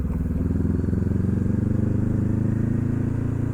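Motorcycle being ridden through Miami, a steady, loud, close engine drone with a rapid pulsing rumble throughout, with no one talking over it.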